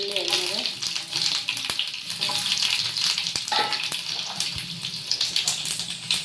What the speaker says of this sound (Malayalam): എണ്ണ ചൂടായിട്ടുണ്ട് ഞാൻ ഇച്ചിരി ഒരു സ്പൂൺ കടുക് ചെറിയ